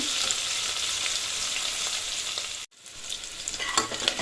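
Small sambar onions fry for a Salem-style chicken curry, hissing in a continuous bright sizzle that cuts out briefly and then resumes with stirring clatters.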